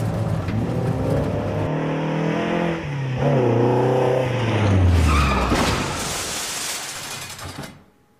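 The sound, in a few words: old Toyota Celica rally car driving fast, Finnish rally special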